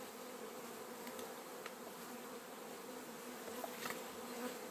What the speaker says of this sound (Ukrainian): струшуємо бджол і ховаємо рамочку до ящика.